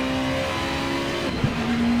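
A Super Touring race car engine in the Assetto Corsa racing game holds a steady high drone under load, with a brief shift-like dip before the note climbs again, loud and close with no talking.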